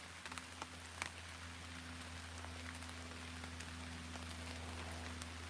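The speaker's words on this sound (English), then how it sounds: "It's a crazy thing about being in the woods when it's raining." Rain falls in an Alaskan forest, a faint, steady hiss of drops pattering on leaves and ground with occasional louder single drips over a low constant hum, and no voices.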